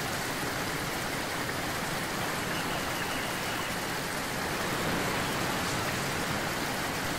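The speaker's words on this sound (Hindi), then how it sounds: "सामने तो झरना है।" A waterfall seen ahead in an action film scene: a constant, dense roar of falling water, even and unbroken throughout, with no voices.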